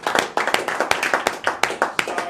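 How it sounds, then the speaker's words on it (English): A small group clapping for a hit sales target in a workplace, a few pairs of hands giving sharp, loosely rhythmic claps close by, roughly a dozen distinct bursts, without voices. "I think it deserves a round of applause"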